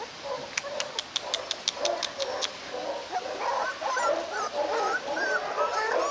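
A litter of eight Rottweiler puppies whimpers and yaps close by, a quick run of high yips at first, then overlapping whiny cries continuing throughout, with a voice faintly talking underneath.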